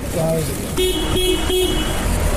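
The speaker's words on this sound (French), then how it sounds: "Ça c'est Bébert et Annabelle qui viennent de klaxonner" A car horn honks in the street, giving a few short toots in quick succession over traffic ambience after a brief murmur.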